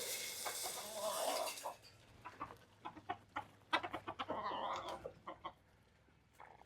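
Roosters and chickens on a farm cluck in short, irregular bursts, fairly close but soft, with a louder rustling burst at the start and scattered calls afterward.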